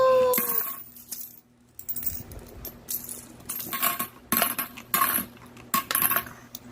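A baby drops coins one by one into a coin bank, making a series of bright metallic clinks and clatters in irregular bursts, close by, with quiet gaps between drops.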